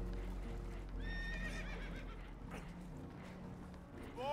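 Spooked horses on a boat in Red Dead Redemption 2 neigh in shrill, wavering whinnies, with clip-clop stamping and a low rumble underneath.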